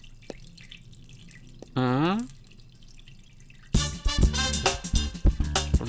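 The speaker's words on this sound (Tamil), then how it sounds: "அப்பாடா, இன்னைக்காவது தண்ணி வந்துச்சே." Water gushes from a tap in a loud splashing burst after a short rising gurgle, preceded by quiet drips and a faint background.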